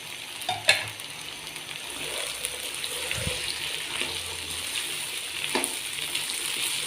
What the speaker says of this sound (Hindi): सारी चीज़ों को हम अच्छे से मिक्स कर लेंगे।